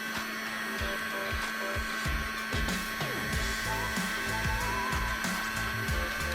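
A heat gun blows hot air to shrink heat shrink wrap onto a Kyosho Mantis nitro RC receiver battery pack, a steady whooshing hum with clicks and handling noises from the work close by.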